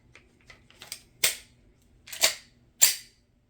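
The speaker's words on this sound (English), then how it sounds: "I always like to put snap caps in my guns when I dry fire them." A Glock G23 pistol in .40 Smith & Wesson, dry fired with snap caps, gives three sharp, close metallic clicks about a second apart, each preceded by softer handling rattles.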